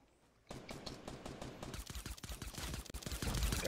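Fortnite gunfire starts after a short quiet opening and continues as rapid, loud automatic bursts of shots mixed with impacts, growing denser toward the end with no voices over it.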